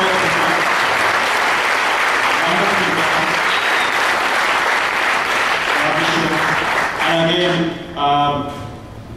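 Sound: audience applause for the Mobitel team

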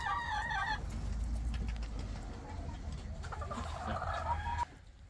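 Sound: chickens clucking in a chicken coop

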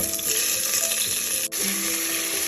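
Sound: chopped onions frying in hot oil with spices

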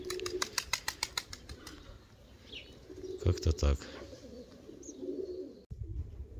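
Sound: pigeons flapping wings and cooing

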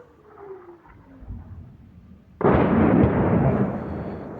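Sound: distant shelling explosions

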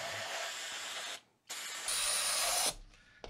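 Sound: spraying brake cleaner on VW Beetle steering box

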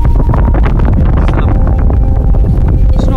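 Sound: wind blowing over anchored sailing yacht

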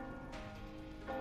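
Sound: church bells ringing, from the video game Reverse: 1999

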